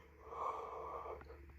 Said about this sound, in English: Again, I always yawn